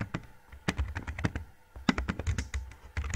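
Rapid, uneven clatter of fingers typing on a computer keyboard, close and clear, with irregular bursts of keystrokes and brief pauses, no voices.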